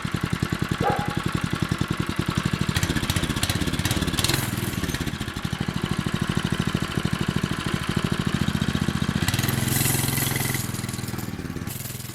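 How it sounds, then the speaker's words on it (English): A homemade micro mini bike's small 6.5 engine, started cold on choke, runs steadily with a rapid, even chugging putter close by, staying loud throughout apart from a couple of brief revs. "Let me show you how easily this thing starts. I haven't warmed it up yet. On, choke. First pull every time."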